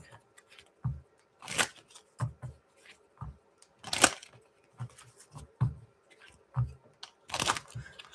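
A tarot card deck is shuffled in short, dry crunchy bursts at irregular intervals, with soft rustles and quiet pauses between them.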